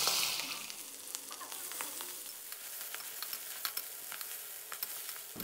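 Crispy Thai mussel pancake being stir-fried with bean sprouts in a hot oiled pan, a steady close sizzle broken by frequent sharp clicks and scrapes from the spatula, with no talking.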